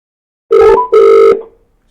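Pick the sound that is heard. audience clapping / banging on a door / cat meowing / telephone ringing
telephone ringing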